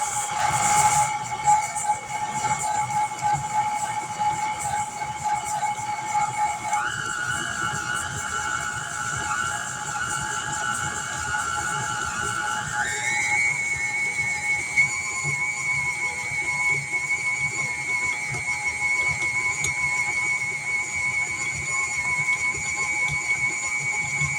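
An electric mixer whirs steadily while mixing chocolate chip caramel cookie dough, a continuous high motor whine that shifts pitch upward twice as the speed changes, running alone throughout.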